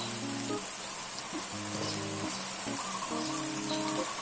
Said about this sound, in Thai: ค่อยๆผัดไปนะครับ